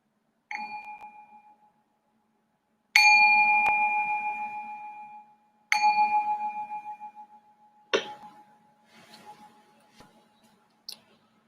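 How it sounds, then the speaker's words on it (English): A meditation bell is struck four times in a quiet room, each clear tone ringing out and slowly decaying, with a couple of fainter light taps toward the end. "I'm just going to ring the bell to signal the start of this first meditation"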